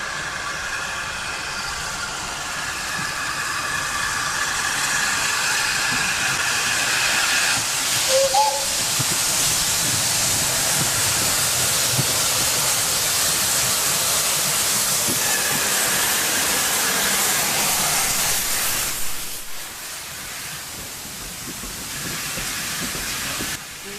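An Adams T3 steam locomotive of the London and South Western Railway arrives at Norden station on the Swanage heritage railway, with a steady loud hiss of steam and chuffing running throughout.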